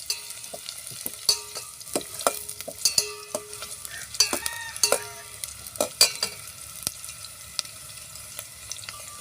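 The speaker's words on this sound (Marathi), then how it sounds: "आता कांदे चांगले तेलामध्ये होऊ द्यायचे" Onions frying in oil in a pan over a wood-fired stove, crisp steady sizzle with frequent scraping and clinking stirring strokes, close up and busy throughout.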